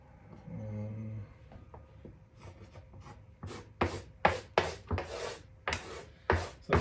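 An oil pastel stick scrapes across a sanded painting surface, starting as soft low rubbing and building into a series of close, gritty rasping strokes in an uneven rhythm.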